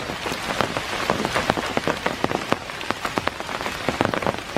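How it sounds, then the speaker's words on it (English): Heavy rain pours in Iroquois Park on a September morning, a dense, loud hiss full of sharp, irregular drops striking nearby surfaces and the camera, with no voices. "It's still pouring down. Getting rain on my lens."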